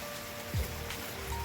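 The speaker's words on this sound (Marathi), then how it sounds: "पाऊस कंटिन्यू चालूच आहे" Steady rain falling on a farm during a long heavy downpour, a continuous soft wash of drops with a brief low thump partway through and no voices.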